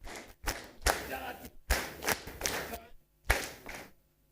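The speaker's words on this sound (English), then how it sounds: "we are going to clap for them" Audience clapping at the Gor Mahia FC end-of-season dinner comes in several short bursts separated by near-silent gaps, fairly faint and roomy, with a few sharper single claps standing out.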